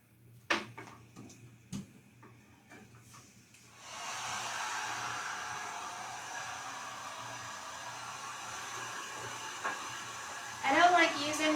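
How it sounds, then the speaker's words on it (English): A heat gun blows steadily while drying paint on a quilt rack conversion, a loud continuous whooshing hiss that starts a few seconds in and holds, after some brief knocks and handling sounds. "I don't like using the heat gun. Yes, it dries quicker."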